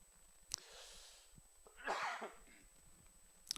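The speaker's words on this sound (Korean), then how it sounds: "기침이 많이 나오는데" A preacher coughs during a Friday church service, with a sharp burst near the start, a louder rough cough in the middle and another short one at the end, close to the microphone.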